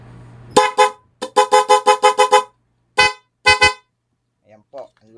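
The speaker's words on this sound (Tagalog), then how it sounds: "So busina po natin mga kaidol." A newly installed PIAA horn on a motorcycle blares in a run of short, loud honks, two more blasts following after a pause. A voice comes in faintly at the end.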